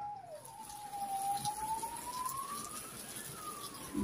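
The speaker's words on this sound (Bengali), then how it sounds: "অ্যাম্বুলেন্স আসছে মনে হয়।" An ambulance siren wails through a jammed street, a single rising and falling tone held steadily over traffic rumble at moderate distance, with no talk.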